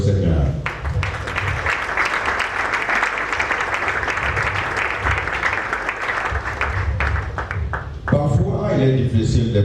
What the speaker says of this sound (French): nous pouvons applaudir au Seigneur